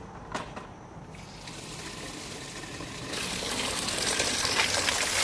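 Water pours steadily into a container of three-week-fermented kitchen waste, a continuous gushing wash that starts with a small splash and grows louder and fuller toward the end, with no voices.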